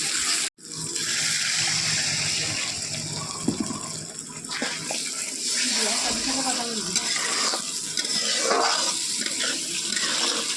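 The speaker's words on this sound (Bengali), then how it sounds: "এবার আমি একটু জল দিয়ে নেব" Water poured into a pan of frying masala for a Bengali rui fish curry, a steady gushing, hissing splash lasting several seconds, close and loud, with a brief sharp sizzle at the start.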